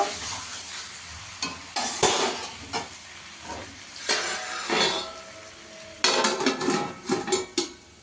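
Chicken stir-fried in a pan over a high gas flame for a red chicken curry, with a steady sizzle under repeated spatula scrapes and metal clinks close by.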